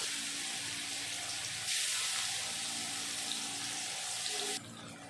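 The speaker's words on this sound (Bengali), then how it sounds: "এখন হলুদ নুন মেখে রাখা মাছগুলো সব দিয়ে দেব।" Fish pieces rubbed with turmeric and salt hit hot mustard oil in a pan, giving a loud, steady broadband sizzle that swells sharply as they go in, holds for a few seconds, then eases off near the end; no talking.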